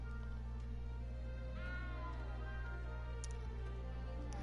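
A small frightened cat meows in Hogwarts Legacy, a few soft rising mewls over steady game music and ambient hum, with no one talking.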